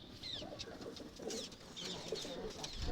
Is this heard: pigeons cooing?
yes